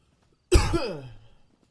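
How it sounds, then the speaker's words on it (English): A single hoarse cough from a scratchy throat, close and fairly loud, with a short rough tail fading out after about a second. "Sorry I'm coughing so much."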